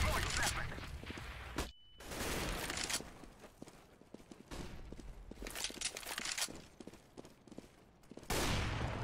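Gunfire from Counter-Strike: Global Offensive during a competitive match, with bursts of shots and footsteps in loud, dense stretches broken by a brief silence, while a player talks over the action.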